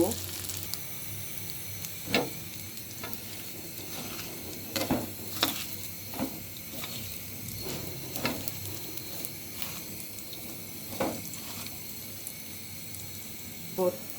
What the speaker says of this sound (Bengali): পেঁয়াজটা আমি মরিচ ভর্তার জন্য কিছু বেজে নিচ্ছি